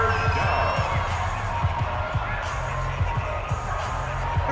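A football stadium crowd at a Saints game roars in a steady, dense wash of cheering, with scattered louder shouts and whoops rising from the mass of voices.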